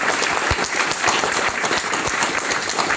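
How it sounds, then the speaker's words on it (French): An audience applauds a woman named Rachel at a talk, steady broadband clapping filling the room throughout with a few sharper individual claps, close and loud, no voices. "Donc on peut l'applaudir pour son courage déjà pour son expérience"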